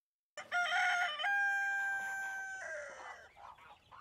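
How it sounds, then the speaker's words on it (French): Roosters crow loudly in the countryside, a long harmonic cock-a-doodle-doo with a sustained high note and a falling finish, followed by softer clucking, near and alone. "Les coqs s'entraînaient de plus belle pour leur chant du lendemain"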